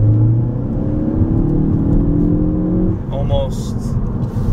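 2013 Ford Focus ST engine and exhaust under way, a steady mid-pitched drone with shifting pitch that drops near the end, fairly loud, with a voice talking over it.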